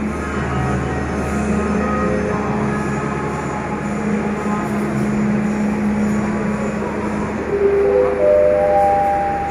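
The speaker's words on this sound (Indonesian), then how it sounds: "Stasiun Gubeng." Trains at Gubeng railway station in Surabaya, a loud continuous rumble of rolling railcars with tonal hum and faint wheel squeal rising near the end.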